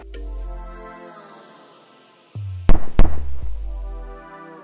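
Two gas-powered paintball shots slowed down: two deep, stretched booming thumps close together, preceded by a long low droning rumble and trailing off into a drawn-out low hum, with no talk.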